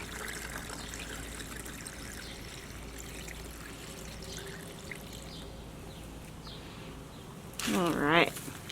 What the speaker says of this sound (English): I'm going to pour some of it through the slotted spoon into my container.